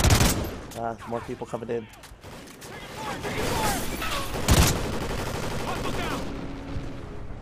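Gunfire in the Call of Duty Ghosts campaign, with rapid bursts and fusillades of automatic weapons and a loud sharp report midway, heard under shouted voices.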